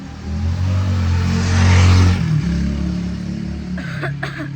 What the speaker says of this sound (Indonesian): Maaf, ada motor.